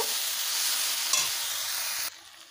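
Taro stolon curry stirred in a pan over a low flame, a steady close sizzle with light scraping; one brief clack near the middle, then the frying sound suddenly drops quieter near the end.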